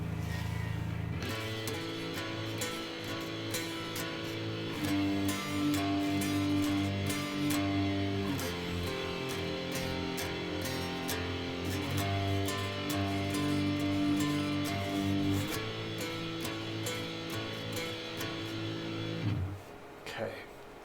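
Electric guitar chords played through distortion ring out in sustained, gritty strums, changing chord every few seconds over about twenty seconds before stopping abruptly.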